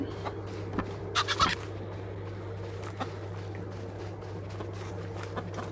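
A chicken clucks in the survival game RuneScape: Dragonwilds: a few quick, faint clucks come in a short burst near the start, then sparse soft sounds over a steady low in-game hum.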